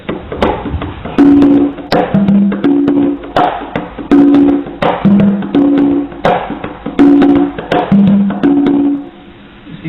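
A swung shuffle rhythm in dotted-eighth-plus-sixteenth feel: crisp percussive hits with short pitched bass notes repeating in a lilting long-short pattern, loud and alone, fading at the end.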